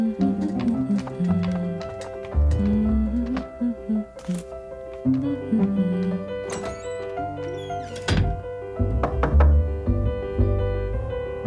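Knocking on a door in the Little Bear cartoon: a few dull thuds spaced through the passage, mixed with background music and character voices.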